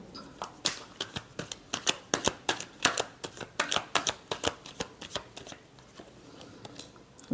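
Tarot cards shuffled by hand up close, a quick run of crisp riffling flicks and slaps in an uneven rhythm, alone with no voices.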